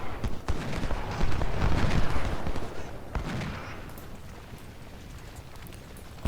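Musket volleys and artillery fire from the video game Ultimate General: Civil War, rolling bursts of massed gunfire and booming cannon that swell early, then settle into a quieter rumble.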